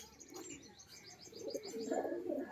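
Domestic pigeons at a rural home loft coo and chirp nearby, soft overlapping calls building louder toward the end with no talking.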